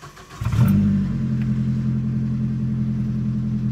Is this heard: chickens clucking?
no